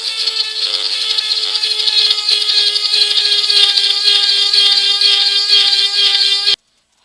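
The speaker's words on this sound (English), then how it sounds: "Now we just have to ream this out." A power tool reams out a Suzuki U-joint with a loud, continuous high-pitched whine that holds steady for several seconds, then stops abruptly into silence.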